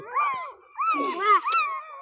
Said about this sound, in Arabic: كلاب صغيرة خالص لسه مولودة زي ما احنا شايفين